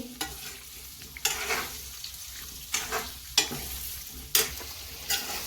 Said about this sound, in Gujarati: આ રીતે આપણે થોડી વાર માટે આંબળાને તેલમાં ચડવા દેવાના છે।